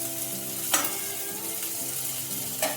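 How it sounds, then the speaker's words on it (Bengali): Bitter gourd frying in a pan on medium gas flame, a steady soft sizzle with a few sharp scraping stirs, close by and fairly quiet, no voices. "উচ্ছেটা ভাজার জন্য আমি ভালোভাবে একটু নেড়ে"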